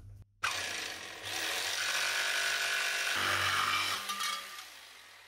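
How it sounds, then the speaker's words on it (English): Jigsaw cutting through an alloy sheet for a car battery tray, a loud close buzzing rasp that starts after a brief click, runs steadily for several seconds and shifts pitch as the blade works, with no talk. "Now it really just comes down to a steady hand to make the cut as straight and evenly as possible. Got my trusty jigsaw."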